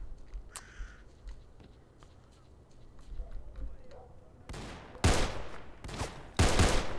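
Gunfire in the video game Stalker, a shotgun among the weapons, comes as several sharp loud bursts in the second half. Quieter game ambience and talking come before them.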